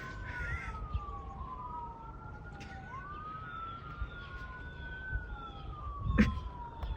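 Wailing police or ambulance siren sweeping up and down at moderate distance, steady for several seconds under outdoor background noise with a brief thump near the end.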